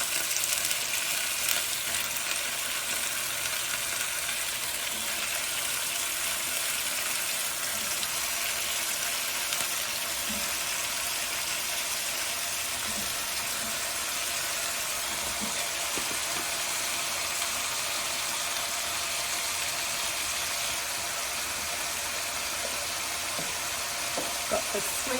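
Chopped onion, carrot, leek and celery frying in a pan for an osso buco casserole, a dense continuous hiss of hot fat filling the background, even and steady with faint occasional clicks.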